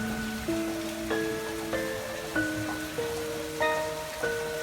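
Steady rain falls as a soft, even hiss behind a slow melody of sustained chiming notes that recurs about every half second, with no voices.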